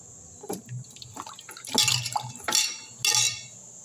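Sweet potatoes are dipped and rinsed in turmeric water, with water splashing and dripping in several short, close bursts and quiet pauses between them.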